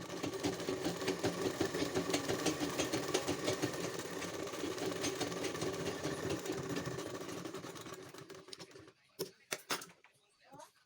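A sewing machine stitching a blouse runs in a fast, steady mechanical chatter for about eight seconds, then slows to a few separate thuds and clicks before stopping, close up and with no talking over it.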